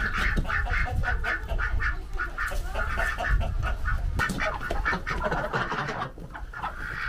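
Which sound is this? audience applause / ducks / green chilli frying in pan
ducks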